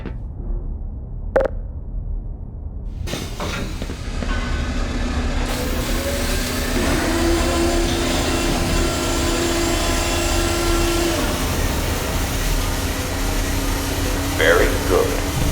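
Anti-mass spectrometer rotors in the Black Mesa video game spin up, with a clunk, then a steady loud mechanical hum and rising whine that holds for over ten seconds, with a few metallic knocks.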